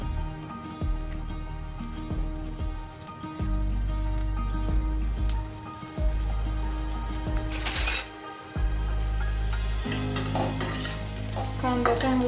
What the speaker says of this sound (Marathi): कांदा चांगला परतून झाला,